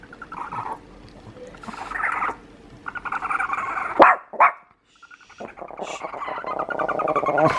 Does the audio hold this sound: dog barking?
yes